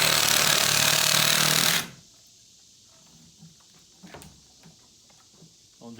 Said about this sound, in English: I'm just getting a Sawzall. I'm going to make a cut going straight down here.